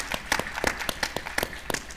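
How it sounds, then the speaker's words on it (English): Scattered applause from a conference audience at a trucking industry event, with a few distinct hand claps at irregular intervals, sparse and fairly quiet rather than a full ovation. "join me in applauding for all of you who are supportive of Next Generation in Trucking"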